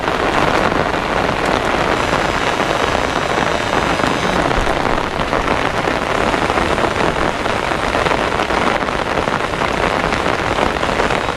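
Heavy rain pours steadily and loudly through a typhoon, a dense, unbroken roar of drops hitting the road and nearby surfaces, with no voices.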